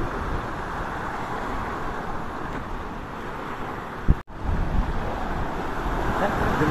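Large ocean waves breaking against a rocky Philippine shore during traditional net fishing, a continuous broad wash of surf with a brief thump of wind on the microphone partway through.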